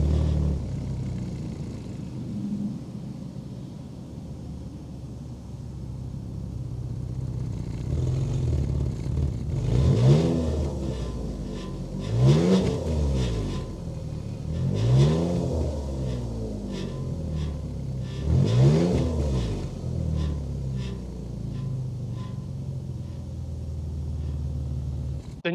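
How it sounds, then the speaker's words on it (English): A 2022 Buick Enclave three-row luxury crossover SUV with over 300 horsepower revs repeatedly, four or five rising and falling engine sweeps over a steady rumble, close and fairly loud. "Let's hear how this luxury crossover sounds."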